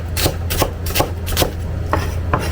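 Galangal, kaffir lime leaves and spices are crushed by hand in rhythmic rasping strokes, a steady gritty scraping repeated about every half second up close.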